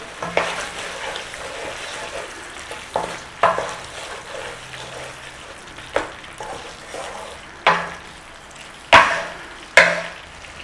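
Curry sauce for a from-scratch chicken jalfrezi bubbles and sizzles in oil in a pan, with a steady low fry broken by sharp, close spatters and stirring clatters every second or so, growing louder toward the end.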